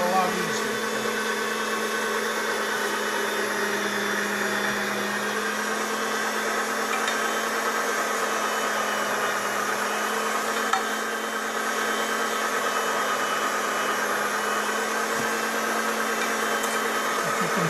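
A small sausage grinding machine runs continuously with a steady motor drone, loud and unbroken throughout, grinding meat fine for homemade country sausage.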